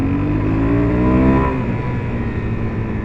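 A 2025 Suzuki DRZ 4S dual-sport motorcycle engine drones loudly and steadily while being ridden, its pitch rising and then easing back around a gear shift, with wind and road rumble underneath.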